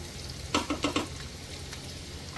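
Chopped onions frying in plenty of hot oil for Gujarati-style misal pav, a faint steady sizzle broken by a few quick stirring scrapes near the middle.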